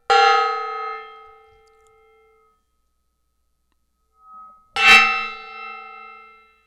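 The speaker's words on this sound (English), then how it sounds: "All right, we have gonged." Gong struck twice, each hit a bright metallic clang with a long ringing decay, the second following a pause of a few seconds, loud and alone with no talk.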